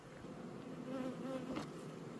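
Honeybees buzz steadily at a hive in a dense, continuous drone close by, with no voices.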